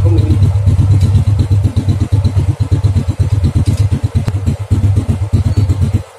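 A motorcycle engine revs hard at full throttle during a charging-system test with the regulator-rectifier disconnected, a loud, close, pulsing roar that holds for several seconds.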